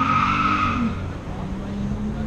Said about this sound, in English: He's just doing a burnout